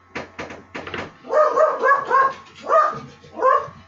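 A dog at home barks several times in quick, loud bursts close by, right after a door sound, with a short yelp at the start.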